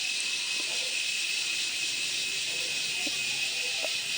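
Dosa batter made from leftover rice, poured onto a hot oiled pan, gives a steady, even sizzling hiss that holds throughout, with a few faint clicks beneath it.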